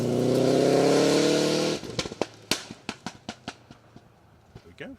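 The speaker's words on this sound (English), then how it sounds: "The rumble and the pop and the bang of the Subaru." A Subaru rally car on a Welsh forest stage, a loud sustained engine roar close by that suddenly cuts to a rapid series of sharp pops and bangs from the exhaust echoing across the hillside.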